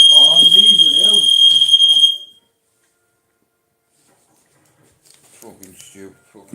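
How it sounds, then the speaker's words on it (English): A household smoke alarm beeps with a shrill, piercing tone for about two seconds while someone talks loudly over it, then it stops, leaving silence before he speaks again. "I'm always setting the fucking smoke alarm on."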